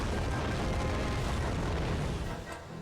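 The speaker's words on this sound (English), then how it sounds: "we'll have Kribo do multiple spine shoot here" Kribo's Spine Shoot attack in a Yu-Gi-Oh video game hits as a dense, rumbling burst of rapid impacts and crackling booms, packed together and fading briefly at the end.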